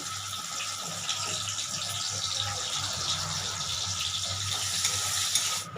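Garlic, green chili and onion frying in refined oil in a pan, a steady close sizzle holding at an even level throughout, with no speech.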